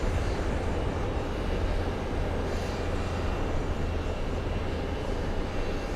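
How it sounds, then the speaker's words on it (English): A Boeing 747 taxiing at Kennedy airport, a steady low rumbling engine drone with broad hiss, constant and moderately loud throughout, no talking. "That was a very lovely 747."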